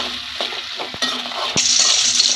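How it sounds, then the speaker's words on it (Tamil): Shallots for peanut chutney are stirred in a hot pan, giving a close, steady sizzle with light scraping taps that grows brighter and louder near the end. "இப்போ நல்லா வதக்கிடலாம்"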